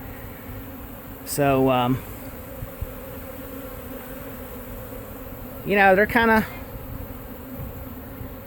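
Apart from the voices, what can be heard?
swarm of honeybees buzzing during removal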